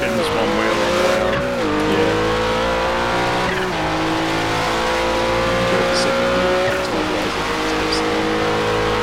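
A GTP prototype race car in a racing video game at Spa spins out, its engine note dropping and rising under loud tire squeal and skidding. A voice talks over the continuous, loud engine drone.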